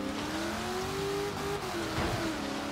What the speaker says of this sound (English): Yeah, that was a one wheel peel there.